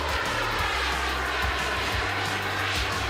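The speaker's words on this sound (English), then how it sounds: "break the record for the fastest speed in a jet engine suit" Jet engine suit in record-speed flight, a loud continuous roaring whoosh with steady engine drone that swells and fades slightly over a few seconds.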